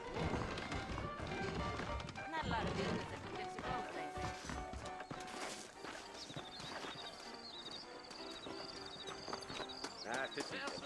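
Horses' hooves clip-clop steadily in the Western video game Red Dead Redemption, with a busy rhythm of hoof taps and an occasional whinny. Voices talk over the hoofbeats throughout.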